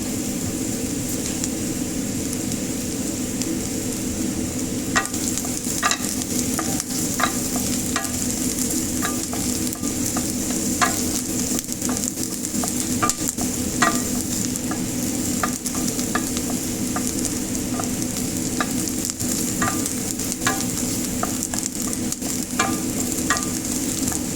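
Garlic and onion sauté in a pan for chicken pastel, a steady close sizzle and frying hiss running throughout, with repeated clinks of a utensil stirring and scraping against the pan.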